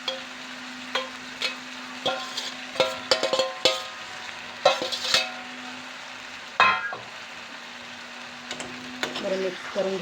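Chopped beans and potatoes frying in a pan while a utensil stirs them, giving irregular sharp scraping clanks and taps over a soft sizzle, with a steady low hum underneath and a few quieter gaps.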